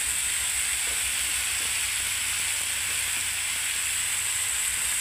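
Tomato paste sizzles in a hot pan while green banana kofta curry is being cooked, a loud, continuous close-up hiss of frying that holds steady throughout with no talk.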